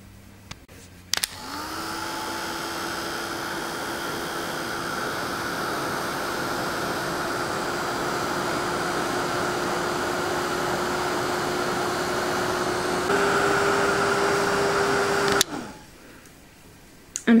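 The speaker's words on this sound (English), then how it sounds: "get your acrylic block and your heating tool and start shrinking" Handheld heat tool blowing hot air steadily to shrink a piece of shrink plastic for a key ring holder, a continuous close whooshing drone running about fourteen seconds before clicking off.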